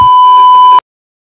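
A Raider 150 Fi motorcycle with a two-way alarm sounds a single loud, sharp electronic beep that holds steady and then cuts off abruptly into silence.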